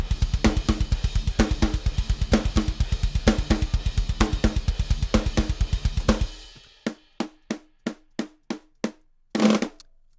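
Fast, dense programmed extreme-metal double-kick drumming pounds with cymbal crashes landing on the beat, then stops and the accented hits continue alone before a final crash.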